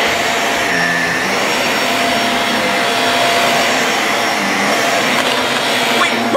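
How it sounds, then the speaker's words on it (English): A vacuum cleaner runs steadily and loudly throughout, a constant broadband whine and roar with no pauses, heard close in a house. "I can't believe I have to vacuum the whole house."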